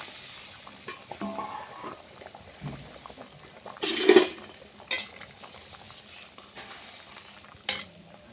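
Egg curry gravy simmering in a pan, a low bubbling under scattered spoon clinks and stirring, with one louder splashy burst midway and a few sharper knocks.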